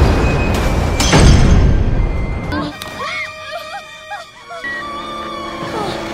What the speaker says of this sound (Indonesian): set panggungnya meledak